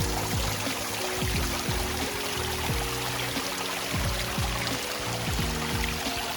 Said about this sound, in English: can't beat a good water feature